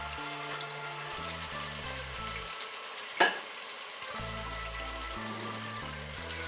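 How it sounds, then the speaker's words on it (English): Meatballs frying in a pan for an instant-pot meatball recipe, giving a steady close-up sizzle and crackle, with a sharp clatter midway and light stirring sounds over background music. "So let's just start frying."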